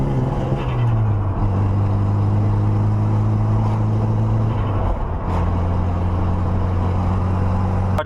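Modified 4G63 turbo engine running with freshly adjusted timing, a close, loud, rough steady drone that dips briefly and settles again, with no voices over it.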